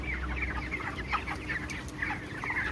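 A flock of 22-day-old chickens on a village farm clucks and murmurs continuously, with scattered overlapping calls over a steady low hum of farm background noise.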